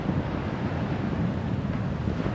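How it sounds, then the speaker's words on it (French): Steady, loud wind buffets the microphone on the beach at Étang Salé, Réunion, a continuous low roar with possible surf beneath and no voices. "Face au vent."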